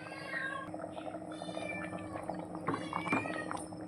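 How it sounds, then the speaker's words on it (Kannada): A house cat meows repeatedly to be let outside, several close, plaintive calls in an indoor kitchen while a curry cooks, with faint household clatter underneath. "ಅದು ಬೆಕ್ಕು ಹೊರಗೆ ಹೋಗಲಿಕ್ಕೆ"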